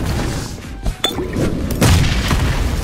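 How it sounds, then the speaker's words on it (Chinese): A grenade explodes in the mobile battle-royale game Peacekeeper Elite, a loud, heavy boom with crashing noise that fills the short moment, with no speech. "本想着悄无声息的给他来一雷"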